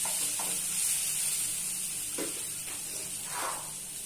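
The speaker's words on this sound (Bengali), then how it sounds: "গরম মশলা দিয়ে একটু নেড়ে নেব" Fried onions being stirred with garam masala in a hot pan, a steady sizzle and hiss with a few scraping spoon strokes against the metal, close and fairly quiet, no talking.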